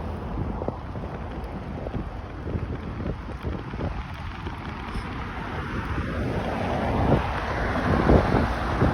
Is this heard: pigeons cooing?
no